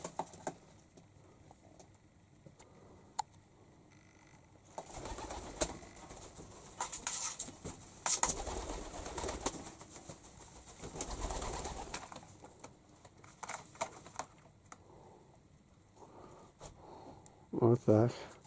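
Wild pigeons in a warm indoor spot where they have raised young give soft, low coos and occasional wing flaps and scuffles nearby, while someone talks over them.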